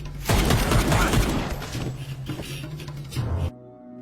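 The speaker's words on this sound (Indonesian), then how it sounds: "Suruli memberondong peluru kepada John hingga tewas" A burst of gunfire from the Indian film Jagame Thandiram, a loud rapid volley of shots close up that decays into a rumbling tail before cutting to near silence.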